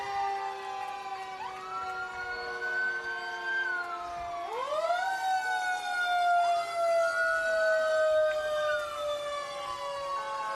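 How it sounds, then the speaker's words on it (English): A fire engine siren in a July 4 Independence Day parade, loud rising and falling wails sweeping up and down over a steady backdrop, close and continuous with no talk. "Here comes engine 4"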